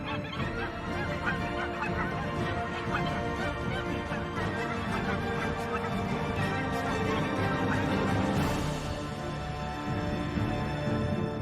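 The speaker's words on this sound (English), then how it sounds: "The geese begin their escape to the south." Migrating geese honk in the Arctic tundra, loud repeated calls layered over a dense, continuous flock chorus, with a brief rising whoosh near the end and no talking.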